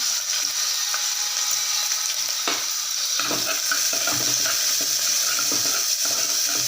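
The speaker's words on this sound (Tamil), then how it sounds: "வெட்டி வச்ச வெங்காயத்தை போட்டுக்கலாம்" Chopped onions dropped into hot oil with asafoetida and curry leaves for cooker sambar rice, a steady bright sizzle with sharp scraping stirs of a spoon against the pan, no voices.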